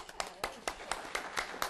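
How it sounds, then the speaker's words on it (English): At an energy cooperation forum, a few people clap faintly in a slow, evenly spaced rhythm, with soft, distant-sounding claps in a quiet hall. "Okay, it's applause."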